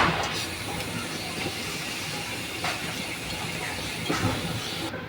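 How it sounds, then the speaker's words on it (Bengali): Oil hisses and sizzles in a kadai (wok) as it heats on the stove, a steady, close broadband hiss with a few soft pops and clicks. "কড়াইয়ে তেল দিয়ে দিলাম"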